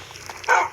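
A dog barks in the Minecraft video game, one short bark near the end following a quiet stretch, with no speech.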